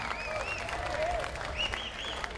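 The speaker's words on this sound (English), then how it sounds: "Give yourself a round of applause." Festival crowd applause after a jazz trio's set at an outdoor jazz and roots festival, a steady wash of clapping from a sizable audience with faint whistles or cheers threaded through, moderately loud and continuous.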